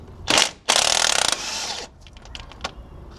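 A socket ratchet turning an 18 mm bolt on a Ford F150 front wheel bearing, heard up close as a short click burst and then a longer, rapid run of ratcheting clicks, followed by faint taps.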